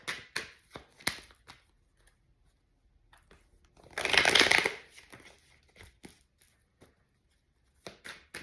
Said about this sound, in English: I'm gonna get like 2 more shuffles, and then I'm going to cut the deck.